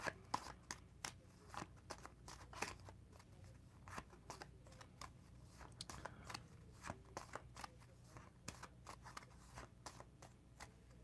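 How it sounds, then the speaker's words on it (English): A deck of tarot cards shuffled by hand, with steady close-up papery flicks and slaps repeating throughout, fairly quiet and without talk. "I'm going to give these a shuffle one more time"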